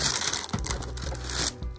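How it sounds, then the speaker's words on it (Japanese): Paper wrapping inside a Nike Dunk Low Retro sneaker box rustles and crinkles up close and loud in a continuous crisp burst, with a brief pause and a final crumple. "包み紙がこんな感じです。"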